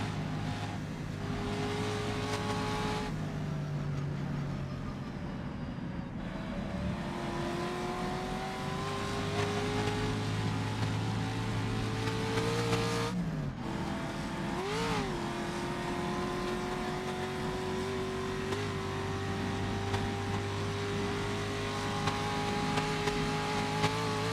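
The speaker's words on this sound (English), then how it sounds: "The engine just hitting the red line," Race car engine at the Isle of Man time trial revving hard to the red line, a loud continuous high-pitched howl with rising and falling pitch as it brakes and changes gear, close and steady throughout.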